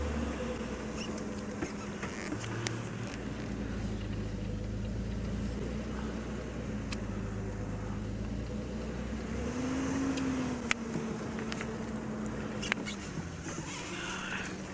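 A safari vehicle engine idles and hums low while it reverses in the bush, a steady faint rumble with a slight rise in pitch partway through and insects buzzing around.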